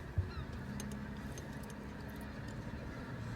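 Greater white-fronted geese, also called specklebellies, give a short honk near the start, then a steady low murmur of a distant flock continues faintly under wind and ambient noise.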